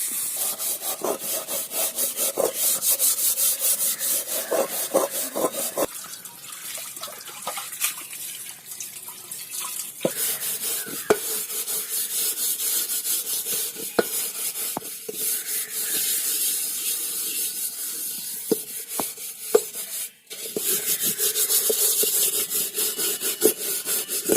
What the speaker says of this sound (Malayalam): അപ്പോൾ ഇനി അടുത്ത പാത്രം കഴുകാം